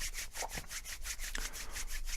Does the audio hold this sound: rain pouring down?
no